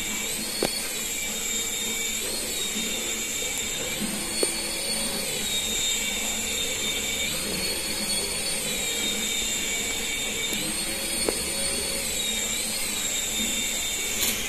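A small rotor whines steadily with high, wavering tones rising and falling as it flies around, with faint clicks and no talking.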